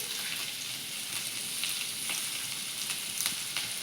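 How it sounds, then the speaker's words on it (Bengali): Turmeric, salt and spices are stirred into food frying in a pan in a village kitchen, a continuous bright sizzle with faint scraping strokes. It is steady and close, with no talking. "এবার আর একটু নেড়ে নিচ্ছে।"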